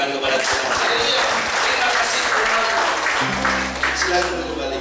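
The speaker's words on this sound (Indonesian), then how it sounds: "Kita berikan tepuk tangan kepada Tuhan." A church congregation claps and applauds, a dense even patter filling the room in a worship service, with a sustained organ or keyboard chord entering toward the end.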